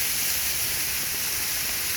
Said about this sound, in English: Well, there's even a waterfall,